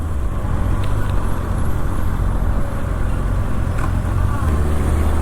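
A 2024 Kawasaki ZX6R motorcycle being ridden, a loud continuous engine drone with heavy wind and road rumble that holds steady throughout and masks any detail, no voices.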